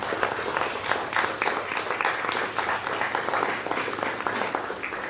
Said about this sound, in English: can we please give them all a big round of applause.